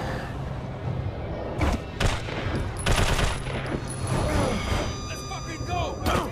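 Machine gun fire in Prototype 2 rattles in short bursts of rapid shots mixed with thumps and other combat noise, moderately loud throughout.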